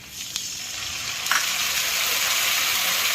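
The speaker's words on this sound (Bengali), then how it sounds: "এরপরে দিয়ে দিচ্ছি আদা বাটা।" Ginger paste drops into a pan of frying potatoes and tomatoes, a couple of sharp taps followed by a loud, steady hissing sizzle that swells and holds close up, with no talk.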